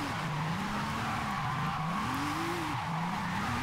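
A car slides in the Forza Horizon 5 video game, giving a steady, continuous tire squeal that wavers up and down in pitch over a constant engine drone, loud and unbroken throughout with no talking.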